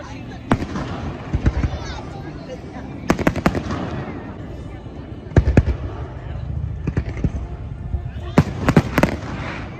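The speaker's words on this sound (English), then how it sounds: "we really enjoyed a great fireworks show" Fireworks over the Kennebec River at an Old Hallowell Day celebration, sharp booms and crackling bursts arriving in clustered volleys at a distance, with people talking quietly between the blasts.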